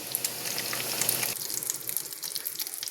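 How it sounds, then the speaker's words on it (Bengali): Cubes of paneer fry in hot oil in a pan, giving a steady, close sizzle that crackles for the whole short stretch with no talking. "পনির কিন্তু মোটামুটি ভাজা হয়ে গেছে এর থেকে আর বেশি ভাজবো না"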